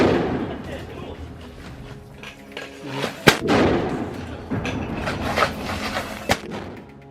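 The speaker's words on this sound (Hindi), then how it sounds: "जिसमें जोरदार धमाके की आवाज आती है" Explosive blasts from a device blowing up a Merkava tank in wartime combat footage, with sharp booming impacts around the middle and near the end over rumbling, noisy background.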